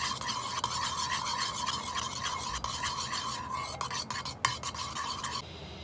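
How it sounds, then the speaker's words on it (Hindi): An egg mixture for a roti sandwich being stirred and mixed in a bowl, continuous close scraping and swishing with a few sharp utensil clicks, no talk. "इसको अच्छी तरह मिक्स कर लेंगे।"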